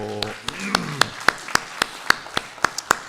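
Crisp hand claps from a church congregation land in an even, quick rhythm, about four per second, after a short burst of voice at the start.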